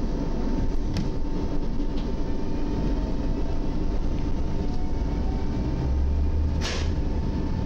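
An EN57 electric multiple unit train departing Sochaczew rumbles steadily with a low, continuous drone and broadband rolling noise, a brief higher hiss rising near the end as it moves off.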